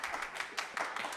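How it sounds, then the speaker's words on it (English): A small audience of only a few people claps for a brief moment, a thin, steady patter of hand claps from close by, with no talking over it. "I know it's hard to get all the clapping going when there's only 14 hands in here"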